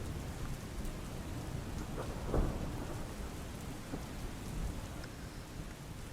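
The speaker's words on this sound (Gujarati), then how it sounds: "ગાજવીજ સાથે મેઘ સવારી આવી પહોંચી" Heavy, constant rain pours down on the town of Dhoraji, Rajkot, with a low rumble of thunder rolling through the middle, no voices.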